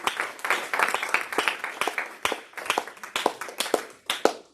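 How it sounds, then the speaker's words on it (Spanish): A church congregation claps together in an offering of applause to God, an irregular patter of many hands, fairly close and moderately loud, rising and falling in bursts over a few seconds with no talk on top. "Denle una ofrenda de aplausos al Señor."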